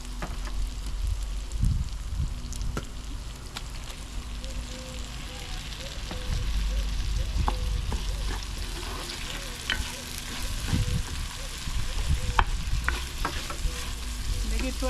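Tomatoes sautéing in a pan outdoors for kuska and chicken curry, a steady loud sizzle with frequent stirring scrapes and clinks throughout.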